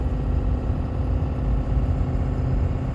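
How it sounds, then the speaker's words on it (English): A cold pickup truck's engine idles with a steady, low rumbling drone that stays even and continuous throughout, close by. "Listen to this truck purr."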